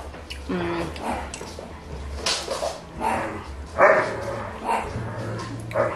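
A dog plays in a kitchen, barking, yipping and whimpering in repeated bursts, close and lively, while a person talks at the same time.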